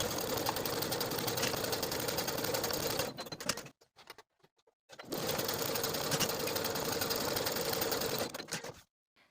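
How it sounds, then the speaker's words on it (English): A sewing machine stitches the separate side seams of a dress bodice in two steady, fast runs of needle clatter, close and alone, with a short quiet pause between them. "Sew each of these separate side seams with a 3/8 inch seam allowance"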